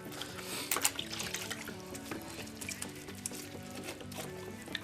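Water trickling and splashing in a sink while the rinse water is changed during football boot cleaning, a steady faint running flow with small splashes and clinks, no voices.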